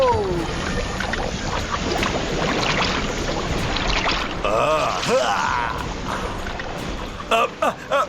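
A cartoon water twister magic spell effect: loud swirling, whooshing water sweeps that rise and fall over several seconds, ending in a few sharp bursts.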